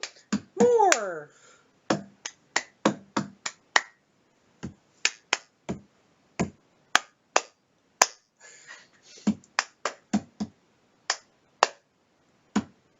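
Sharp hand claps and quick taps during a UFO a Go-Go card game come in irregular bursts, single and grouped, close and crisp against near silence, with brief speech early on.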